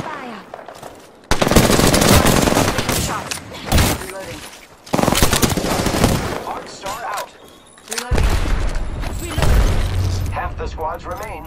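Rapid automatic gunfire erupts in loud, close bursts during an Apex Legends battle royale match, separated by brief pauses, with a voice speaking between the volleys.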